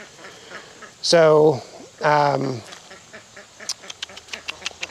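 Ducks that get trapped behind netting give two loud, drawn-out quacking calls close by, followed by quieter, brief clicks.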